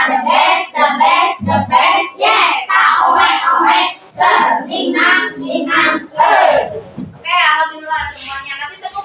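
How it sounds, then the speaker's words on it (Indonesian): A class of children shouts a rhythmic 'tepuk semangat' clapping chant together, loud and close, with claps and chanted yells in a steady beat throughout. "Oke, kita tepuk semangat dulu ya"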